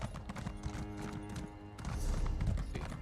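Hooves of a horse being ridden near Skingrad in The Elder Scrolls Online: Gold Road clip-clop in a steady, close rhythm over game ambience and music, with the tail briefly getting louder.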